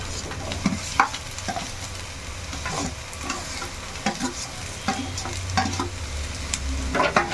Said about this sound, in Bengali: এখন এটা একসঙ্গে বেশ ভালো করে একটু ভেজে ভেজে নেব যতক্ষণ না টমেটোটা একটু গলে গলে আসে